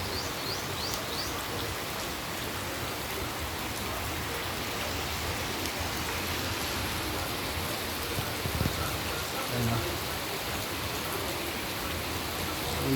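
Heavy rain falls steadily in a rural setting, a dense, even wash of patter on surfaces that carries on for the whole stretch. A faint bird call comes through now and then.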